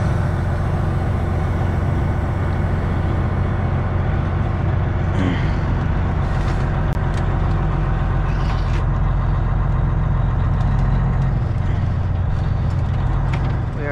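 A Freightliner Classic truck engine runs steadily while driving, producing a loud, continuous low rumble with road noise throughout.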